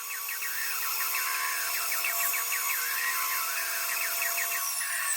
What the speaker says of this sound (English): we're just gonna hit these on the bandsaw real quick